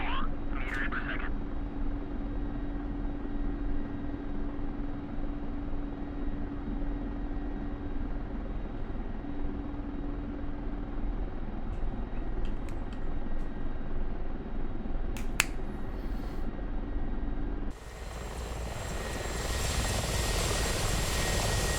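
A Mi-24 Hind helicopter's engines spool up during startup in the DCS flight simulator, a continuous loud turbine whine and drone with a few clicks partway through. The sound shifts to a broader roar near the end.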